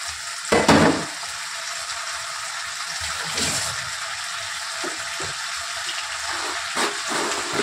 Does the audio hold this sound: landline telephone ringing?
no